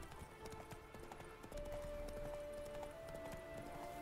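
Geralt's horse Roach gallops in The Witcher 3: Wild Hunt, a faint, quick run of hoofbeats over a low ambient game soundscape, with a thin sustained tone entering partway through.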